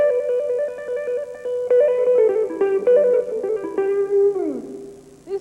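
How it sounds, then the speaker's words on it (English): Fast electric guitar trills played with hammer-ons and pull-offs, rapidly alternating notes in a steady flutter, ending in a sliding bend; loud and solo with no talking. "If you add the two techniques together, you can get trills, and they sound like this."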